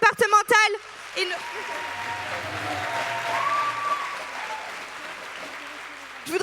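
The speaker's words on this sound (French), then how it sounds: "Je voudrais qu'on applaudisse aussi les agents du conseil départemental" A crowd at a political meeting for municipal elections breaks into sustained applause, a dense wash of clapping that swells and holds for several seconds after a brief spoken phrase at the start.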